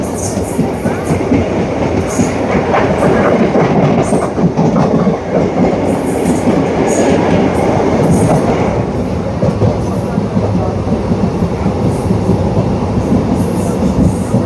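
Uttaranchal Sampark Kranti train pulling into Lal Kuan station, a loud continuous rumble of wheels and carriages with rhythmic clickety-clack and occasional high squeals, close by for the whole stretch.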